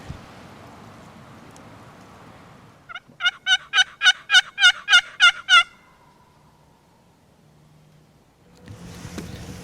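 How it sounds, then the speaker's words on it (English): A pair of wild turkey gobblers on a Missouri ridge in spring woods, about 150 yards off, sound a single rattling gobble of about ten rapid pulses, clear but distant, set between quiet stretches of breeze. "I got a pair of gobblers are hung up on this ridge across the drain from me"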